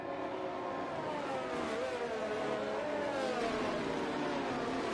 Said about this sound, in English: Why is his car revving like that?